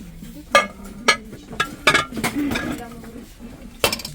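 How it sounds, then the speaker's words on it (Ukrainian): A 4-litre oval glass oven baking dish handled on a store shelf, with several sharp clinks and knocks spaced about half a second apart, plus a brief rattle, while a voice talks faintly. "Форма скляна для випікання."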